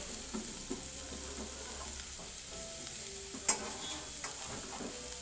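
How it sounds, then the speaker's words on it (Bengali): Green, red and yellow bell peppers frying together in a pan, a close, continuous sizzle broken by scraping stirs and a sharp clatter of the spatula against the pan midway. "একসাথেই আমি 3টে ক্যাপসিকাম ভেজে নিচ্ছি।"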